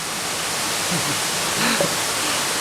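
Steady broadband rush of a waterfall in tropical North Queensland, continuous and fairly loud, with a faint voice-like murmur briefly rising near the middle.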